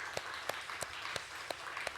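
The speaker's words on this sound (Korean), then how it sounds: "오늘 저녁에 나온 청년들 우리 다시 한번 큰 박수로 감사합니다." Congregation applause for the church youth group at a Sunday afternoon service, a faint, distant wash of clapping with a few sharper claps standing out in a loose rhythm, no talk over it.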